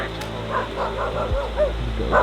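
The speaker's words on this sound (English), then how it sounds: "he's almost been attacked by a dog" A dog barks and yips near a small river during carp fishing, short bursts that are faint to moderate over steady outdoor noise and a distant voice.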